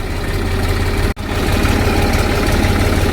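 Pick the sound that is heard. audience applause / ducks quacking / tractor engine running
tractor engine running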